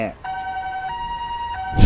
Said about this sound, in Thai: รถพยาบาลแล่นผ่านมาส่งเสียงวอดังลั่น